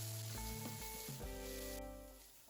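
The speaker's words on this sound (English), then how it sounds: "in a small frying pan, I add some olive oil, heat that up, and to that I add my onions as well as the garlic in order to saute it" Onions and garlic sauté in hot olive oil in a small frying pan, a steady close sizzle under a layer of tonal background music, with no voices.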